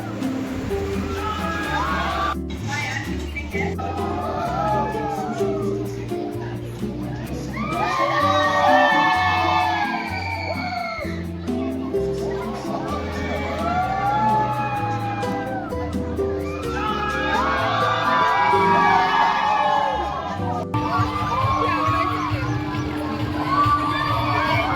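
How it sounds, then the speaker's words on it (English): Crowd of riders screaming and shrieking on a thrill ride at the Imagicaa amusement park near Mumbai, a dense sustained chorus of high-pitched yells that swells in waves, loud and continuous with background rumble. "You can hear every one of those screaming right now."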